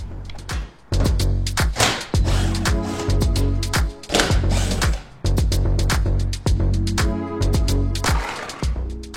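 Ratcheting clicks and whirs of a tool backing out Torx T25 screws on a car, in short bursts separated by brief pauses, loud and close.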